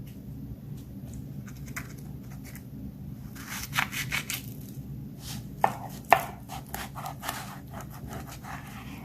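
A knife chops a fried egg on a cutting board in a few scattered, sharp taps with quiet gaps between them. The sound is close, and no one talks.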